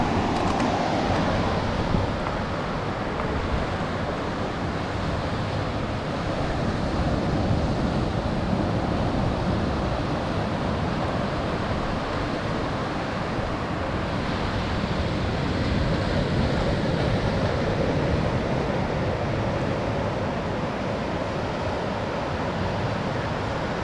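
Ocean waves washing onto the beach at Treasure Beach, Jamaica, a continuous, fairly loud broadband roar of surf mixed with wind buffeting the microphone, steady throughout with no voices.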